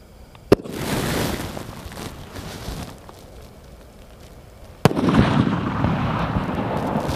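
Golden Eyes sky shot Diwali firework bursting outdoors: a sharp launch pop, a crackling shower, then a second loud bang followed by sustained fizzing and crackle.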